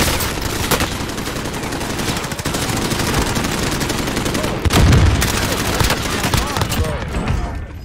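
Gunfire from a multiplayer video game shooter, with dense overlapping shots and bursts running continuously near and loud, heavier blasts around the middle, while players talk over it.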